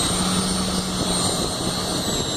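A Unigenetics WT-500 homogenizer/emulsifier runs at 10,000 RPM with a loud, steady, high-pitched whine and a dense motor drone, unchanging throughout.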